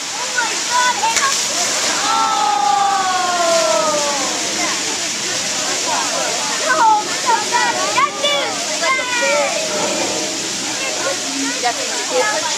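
A 6.5-ton iron water wheel turning at a gristmill, a constant loud rush of falling, sloshing water, with excited voices and exclamations over it throughout.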